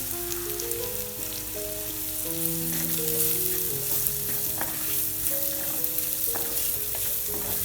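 Shallots and curry leaves frying in oil for a Kerala stingray curry, a steady crackling sizzle with occasional sharp pops and a faint tonal hum underneath.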